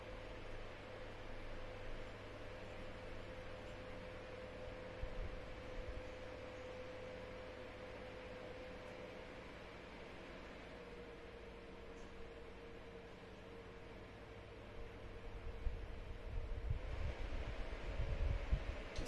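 A Pearl column fan connected via Tuya runs at minimum power in natural wind mode while oscillating, giving a steady soft airy hiss with a faint hum and a few low rumbles near the end.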